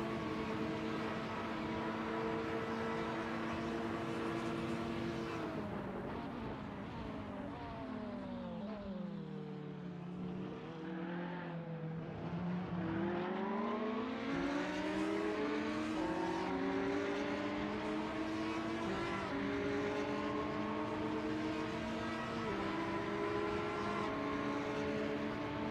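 Race cars circling Monza in a sim racing game, an Audi R8 among them, their engines droning steadily with pitch dipping under braking then climbing again through the gears, a continuous loud engine note with no talk.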